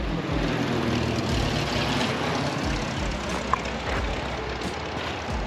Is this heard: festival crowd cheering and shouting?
no